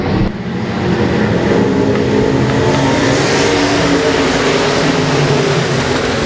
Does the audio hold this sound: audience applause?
no